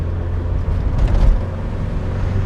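An older Volkswagen car engine hums steadily at low pitch while driving, heard from inside the car with road and cabin rumble.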